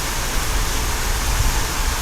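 Heavy rain pours in Lahore as a dense, loud, even hiss of falling water that holds steady for a couple of seconds with no voices.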